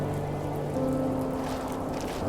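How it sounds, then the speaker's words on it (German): Steady rain hisses evenly throughout in the video game The First Tree, a soft constant patter with a faint low hum underneath and no voices. "Gut, jetzt regnet's."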